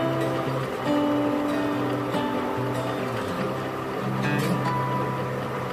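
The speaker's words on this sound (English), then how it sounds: "The lathe is going as slow as it can go." An aluminum tap held under tension by a wrench on a lathe turning at its slowest speed while a custom drag link is machined, producing a steady, close mechanical hum and rumble with faint clicks and no talking.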